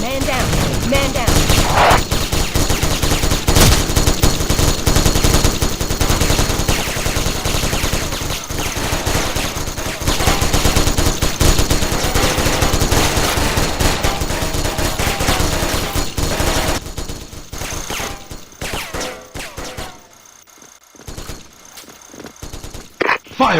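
A Gatling gun fires in a video game, long sustained bursts of rapid automatic fire dominating nearly the whole stretch, with brief game voice callouts, before cutting out near the end and restarting briefly.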